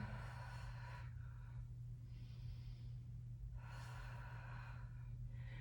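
Deep breaths drawn in and let out while holding a seated stretch, hands on the ankles or tops of the feet, as two long airy rushes of breath, close and alone over a low steady hum.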